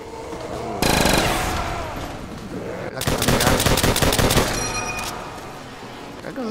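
Loud automatic gunfire from Soviet-era weapons such as the PPSh and RPD in Call of Duty: World at War Zombies, two long rapid bursts with a quieter stretch between and a short burst near the end.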